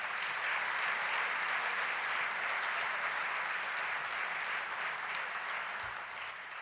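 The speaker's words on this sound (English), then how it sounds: "Won't you give them a round of applause?" Audience applause for city council members at a mayor's State of the City address, a steady broad wash of many hands clapping throughout, moderately distant and fading slightly at the end.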